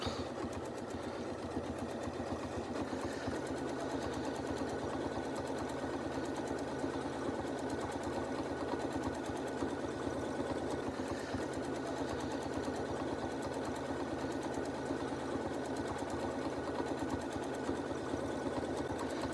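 Sewing machine stitching free-motion quilting loops with an open-toe foot, a steady, fast, close mechanical whir that runs unbroken and even throughout with no talking.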